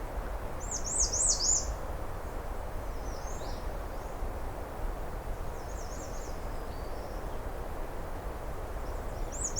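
A small falcon calls in rapid, shrill chattering bursts, distant and repeated a few times over steady wind or background hiss.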